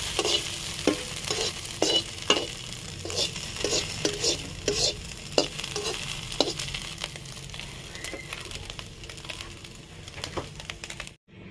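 Fish and egg frying together in a pan, a steady close sizzle broken by repeated scraping and stirring strokes of a utensil against the pan, continuing throughout before stopping abruptly.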